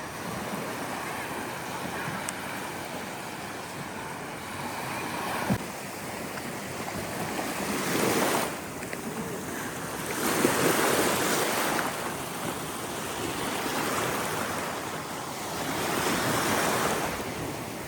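Sea waves wash onto the shore on a northern coast, a continuous surf roar rising and falling in several swells, with wind buffeting the microphone.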